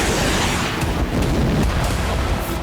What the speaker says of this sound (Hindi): यूक्रेन के खेमेलनित्स्की में कई धमाके हुए हैं।